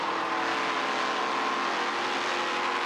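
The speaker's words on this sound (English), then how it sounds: "Listen to how easy he is on that throttle, coming up behind a slower race car" A race car at the 2018 Fans With Benefits 150 runs on light throttle behind a slower car, giving a steady, even engine drone with no sharp revving, heard alone.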